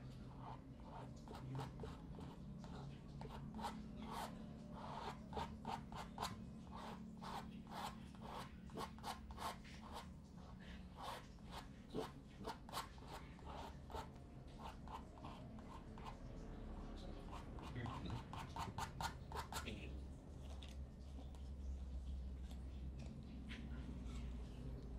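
Thick acrylic paint spread with a palette knife while painting a rainbow trout, producing long runs of quick scraping, rasping strokes, close and fairly quiet, over a low background hum.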